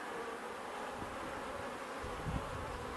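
Honey bees in an open hive's top box, its centre full of brood, make a dense continuous buzz close by, with a slight swell near the end.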